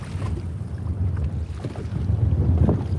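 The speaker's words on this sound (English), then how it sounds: "I guess that's decent, being that the wind is blowing this hard." Strong wind gusting across an open lake during bass fishing from a boat, a loud rumbling buffet against the microphone that swells and churns steadily, with faint water sounds beneath.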